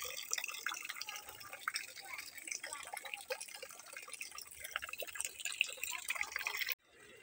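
A tap runs while dishes are washed during Diwali house cleaning, giving a quiet, steady splashing trickle with scattered drips and clinks that stops abruptly just before the end.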